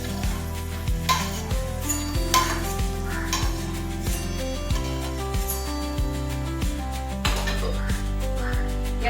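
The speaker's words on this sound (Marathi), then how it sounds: "मी तळून घेते, जेणेकरून आणखी व्यवस्थित चव वाढेल." Food frying in a pan with steady sizzling under a loud, rhythmic background of repeated beats, with occasional scraping and stirring sounds near the pan.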